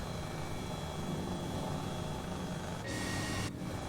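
A light aircraft engine in Microsoft Flight Simulator hums steadily throughout, with a brief brighter surge in pitch and loudness near the end as the throttle comes up, alone without talk.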